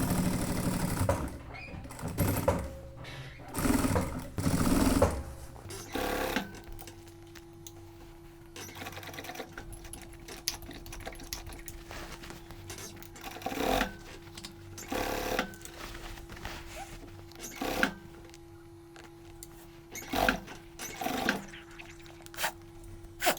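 An industrial-style sewing machine stitches the thick waistband of a pair of 90s-style jeans, whirring in uneven start-stop bursts with knocks and clunks as the heavy denim is fed through.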